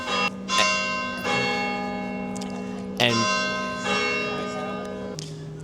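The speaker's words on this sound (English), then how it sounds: "all right, now the church bell's done." A church bell rings loudly and close by, striking several times at a slow, steady pace, each ring lingering; a voice speaks briefly at the start.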